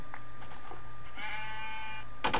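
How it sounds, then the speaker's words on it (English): Sheep bleat in the Minecraft video game, with two or three short baa calls in a row and one drawn-out bleat in the middle, all at moderate volume over a faint background hum. "So now, see, I'm hearing sheep."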